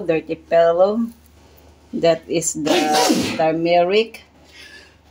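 A sharp sneeze bursts out between stretches of talking.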